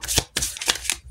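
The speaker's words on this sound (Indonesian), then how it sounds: "Langsung buka beberapa kartu" Tarot cards shuffled and flipped out onto a surface: several quick papery riffles and slaps in a short burst, close and fairly loud, with no voices.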